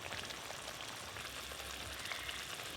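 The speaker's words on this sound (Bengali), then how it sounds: "গ্রেভি তো ভালো করে ফুটে গেল" Prawn malai curry gravy bubbles and sizzles steadily in a pan, a faint, continuous crackling simmer with no voices.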